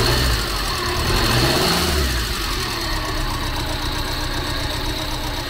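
A Renault 4's Cléon engine runs close by, with a throaty rev at first that settles into a steady, slightly knocking idle.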